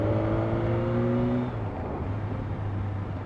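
Cars pass along a countryside road, a close, humming engine with a steady tone that drops as it goes by, followed by a lower rolling tyre noise.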